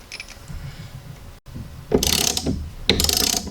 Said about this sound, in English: We're going to tighten that nut up